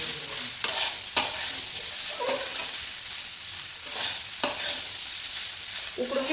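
Sabudana khichdi with boiled potatoes stirred in a pan over medium heat: a steady low sizzle broken by several sharp scraping strokes of the spoon, close and quiet, with no talking.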